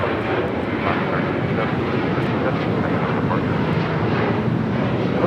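An airliner departing LAX on takeoff roll, a loud, dense and steady jet engine roar with broadband rumble holding throughout.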